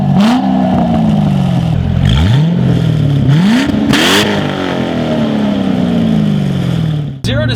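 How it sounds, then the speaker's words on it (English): A 2008 C6 Corvette with its exhaust cutout open revs up and down repeatedly, its loud, throaty engine note rising and falling as sharp backfire pops crackle between the revs. "So right now we have it open, and that's why you can hear the backfiring."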